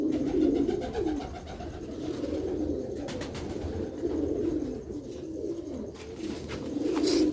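Pigeons coo steadily in a low, rolling chorus, several overlapping calls repeating without pause, close by in a breeder's loft with a genuine-condition old pigeon among them.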